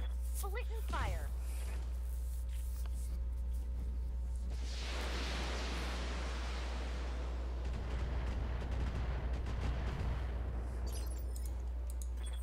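Mech weapons fire in the BattleTech game, with a sharp opening crack followed by a long rumbling, rushing barrage of explosions that rolls on for several seconds over a constant low hum.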